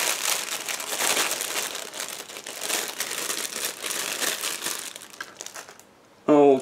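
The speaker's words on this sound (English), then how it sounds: "we have plastic sprues packed like this into one plastic bag. So just give me a second to open it." Plastic crinkles and crackles in bursts as a plastic bag holding model kit sprues is handled and pulled open, close by, ending with a short voice.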